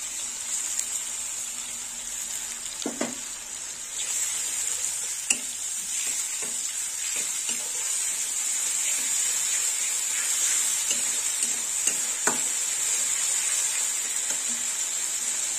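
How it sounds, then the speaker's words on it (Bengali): Spice paste frying in a pan for a Bengali bottle gourd and chana dal dish, a steady close sizzle with scraping stir strokes and a few sharper clinks of the spoon against the pan. "মশলাটা একটু ভেজে নেব"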